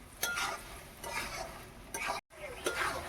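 Potatoes and carrots are stirred and fried in a pan with salt and sugar, giving a soft scraping stir in repeated strokes over a faint sizzle, with one brief break.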